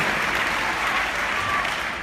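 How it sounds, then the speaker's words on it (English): Convention audience at a Paycation event giving Mark Sterling a steady, dense round of applause, many hands clapping continuously and fairly close throughout. "can you give a big round of applause to Mr. Mark Sterling?"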